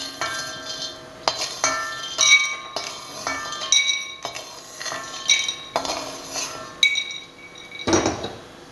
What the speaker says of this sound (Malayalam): ഇനി നമുക്കിത് ഒരു പാത്രത്തിലേക്ക് മാറ്റാം.